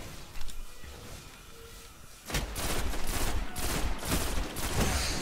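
Pulse rifle fire in the video game Destiny during player-versus-player combat, quiet for the first two seconds, then rapid bursts of shots crackling loudly and continuously with no voices.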